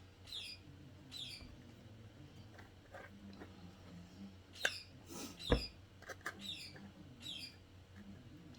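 Faint, high squawks and chirps from a pet bird repeat every second or so, distant against a quiet kitchen room with a few soft knocks during sourdough mixing.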